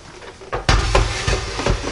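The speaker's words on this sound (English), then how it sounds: "And so I'm going to take the lid off." The lid of a NuWave countertop oven is lifted off after baking a Bundt carrot cake, giving a close clunk and clatter of plastic and metal followed by a few lighter knocks as it is set down.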